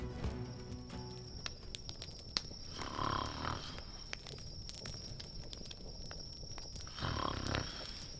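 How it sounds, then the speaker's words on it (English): A character in a fantasy video game about a blind princess snores, with two slow, drawn-out breaths a few seconds apart over a faint, hissing game background. "She snores worse than you."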